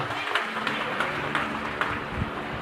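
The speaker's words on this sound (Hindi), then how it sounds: "दिल से ताली बजाना मिस्टर अक्षय सर के लिए" An audience at a DTM celebration in Manesar, Gurgaon, claps for Mr Akshay, giving a sustained wash of applause from a crowd at moderate loudness with scattered sharper claps.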